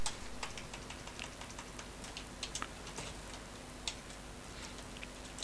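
Computer keyboard typing out an h1 heading in code, a quiet, close run of light irregular key clicks in short bursts over a faint steady background hum.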